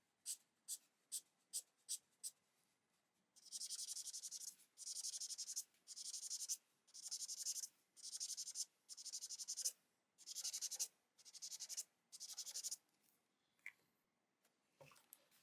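Water-based markers coloring on thick mixed media paper, first a few quick separate scratchy taps, then a long series of steady back-and-forth rubbing strokes, close and quiet, heard alone.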